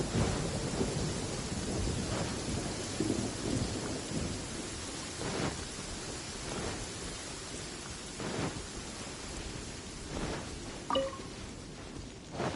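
Rain and thunder in Genshin Impact: a steady hiss of rainfall spreads evenly throughout, broken by several deep rumbling thunder rolls, with a brief chime-like blip near the end and no voices.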